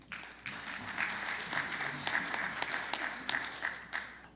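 An audience at an education rights conference panel claps, a scattered, moderately sized round of applause with sharp individual claps, fairly faint and steady throughout.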